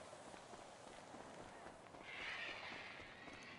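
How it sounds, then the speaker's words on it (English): Quick, steady running footsteps thud along continuously, a brisk patter of heavy steps with a faint rustling layer over the top. "it sounds like we're running in boots"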